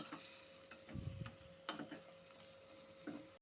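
Crab cooked down with ginger, green chili paste, potatoes and vegetables, stirred in a pan. A faint sizzle sits under a few scrapes and knocks from the spoon.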